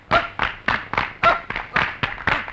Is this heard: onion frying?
no